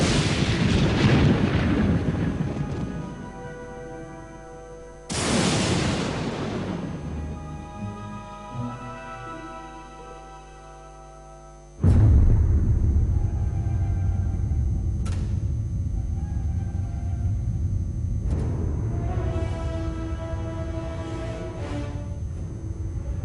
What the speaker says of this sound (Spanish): La explosión aumentó la temperatura a 10 millones de grados de forma inmediata